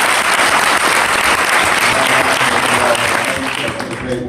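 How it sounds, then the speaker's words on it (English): Dense, loud applause from a large audience at a police bureau clergy summit, a continuous roar of many clapping hands that fades slightly at the end. "Let's give our Deputy Chief Bob Green a round of applause as well."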